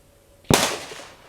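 A Kel-Tec RFB rifle fires Hornady Whitetail ammunition at a 100-yard target, giving one sharp, loud report that rings out and fades over a short tail.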